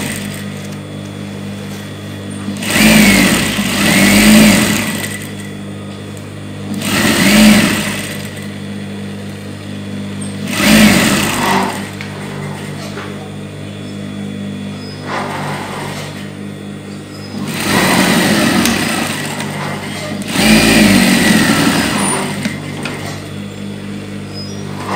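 A sewing machine stitches the trim on a djellaba, running in five separate bursts of steady mechanical whirring with short pauses between runs.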